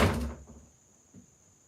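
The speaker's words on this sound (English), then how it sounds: "don't mind the squeaky door" An indoor squeaky door gives a brief, fairly loud creak and bump as it swings, then fades into near silence with a faint later shuffle.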